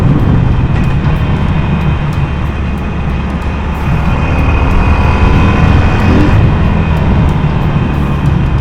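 A 2015 Harley-Davidson 1200 Sportster engine rumbles loudly and steadily nearby, a deep continuous throb that never lets up.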